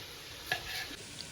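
A brief, quiet sizzle of Korean-style mushrooms frying in a pan, with a faint hiss and a light scrape partway through as seasonings are added.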